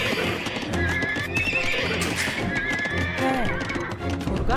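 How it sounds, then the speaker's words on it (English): Horses neigh and whinny repeatedly over clip-clopping hooves and a busy, continuous game soundscape in the Age of Empires II Dynasties of India campaign. "That is indeed a pretty horse that you brought me, Babur."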